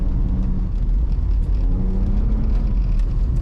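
A BMW E46 320i driven on a snowy winter forest road, heard from inside: a loud, steady engine drone with tyre and road rumble, the revs rising and falling slightly.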